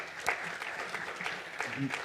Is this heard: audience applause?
yes